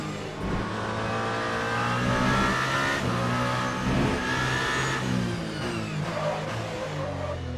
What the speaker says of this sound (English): Big lockup